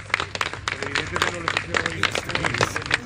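Family, friends and comrades applaud as the body of a navy member who died in Mexico arrives in Santa María del Real, Olancho: scattered, uneven clapping from a nearby crowd mixed with voices.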